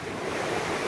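An ocean wave washes in as a brief, continuous broadband roar of surf, close and loud, with some wind noise on the microphone.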